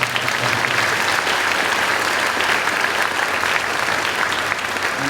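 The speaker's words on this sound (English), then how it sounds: "So give them a round of applause." Audience applause at a middle school band camp, given for the sectional coaches: dense, steady clapping from a large crowd that holds at an even level for the whole stretch.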